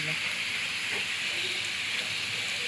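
Garlic frying in hot oil in a home kitchen, giving a steady loud sizzle and hiss throughout while someone speaks over it.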